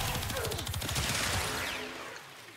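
Rapid automatic weapon fire in Warframe, the shots rattling in dense bursts over game sound and fading away toward the end.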